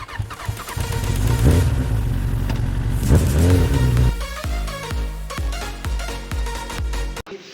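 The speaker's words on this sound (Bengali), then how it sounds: "এটা EFI ইঞ্জিন, ECU চালু থাকে" An EFI petrol engine revs up loudly, rising and falling several times, then settles into short sharp throttle blips before cutting off abruptly.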